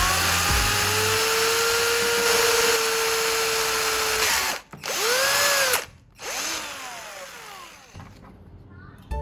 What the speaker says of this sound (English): I'll drill one hole on an end of the handle